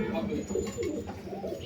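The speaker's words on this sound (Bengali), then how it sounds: "সব ধরনের কবুতর আমার কাছে আছে" Pigeons of fancy breeds in a loft coo in a low, steady murmur that runs through the whole moment, close by, with no talk over it.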